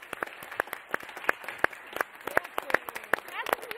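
Applause at a final show honouring a winner, a sparse scattering of distinct hand claps with irregular rhythm, fairly close, suggesting a small group clapping.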